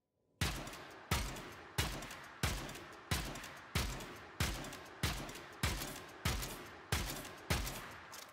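Dual Toxocyst pistols in the Warframe video game fire about twelve loud, evenly spaced shots with heavy kick, each a sharp blast trailing off quickly before the next, with no talking.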